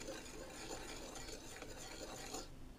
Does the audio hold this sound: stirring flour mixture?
yes